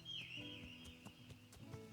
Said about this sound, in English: Come on, horse, let's try.